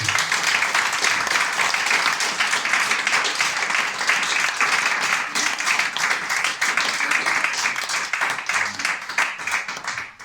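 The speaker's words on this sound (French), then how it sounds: "Je voudrais qu'on les applaudisse quand même." An audience applauds at an association's general assembly, a loud, dense and steady round of clapping that holds for about ten seconds before tapering at the end.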